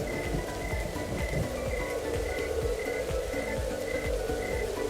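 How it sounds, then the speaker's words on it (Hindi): Light rain falling steadily at a quiet, deserted roadside spot, a soft continuous wash with scattered patter, while frogs or insects chirp and croak in a repeating rhythm throughout. "हल्की हल्की बारिश शुरू हो गई।"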